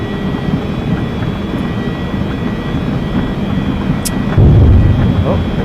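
Jet airliner engines roar steadily through a night takeoff roll from Sioux Falls, South Dakota, a broad, loud, continuous rumble that swells slightly near the end, with faint voices in the cockpit underneath.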